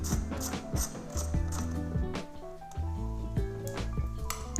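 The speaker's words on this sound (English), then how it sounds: "So just again, your 4mm hex bit in your ratchet." Ratchet fitted with a 4mm hex bit loosening a turn signal bolt on an Aprilia Tuono V4 1100 Factory motorcycle, giving quick repeated clicking pawl bursts, close and fairly quiet, with brief pauses between strokes.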